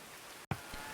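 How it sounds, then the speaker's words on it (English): Pouring rain in the medieval colony-building game Going Medieval makes a steady, dense hiss, broken by a brief dropout before the downpour resumes. "It is pouring rain out."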